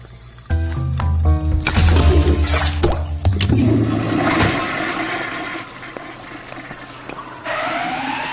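A toilet flushes in a movie scene, a loud gushing rush of water lasting a few seconds, then a fainter draining and refilling hiss.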